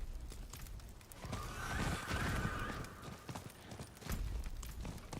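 A horse in the video game Diablo 4 gives a loud, drawn-out whinny over clip-clopping hooves and dense game ambience, with heavy hoof thuds returning near the end.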